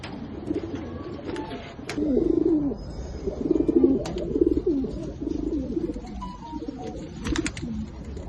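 A loft of Bagha pigeons, including silver, bezi, army and jira-neck birds with males and females together, keeps up continuous overlapping cooing for several seconds, close and fairly loud, with no talk.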